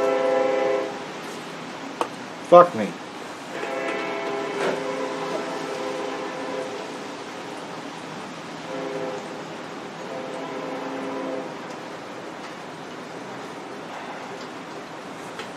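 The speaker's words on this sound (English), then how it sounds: "And there's a train." A passing train sounds its horn in long sustained blasts from a distance, repeating several times over a steady rail rumble, with a brief loud clatter and a short spoken remark.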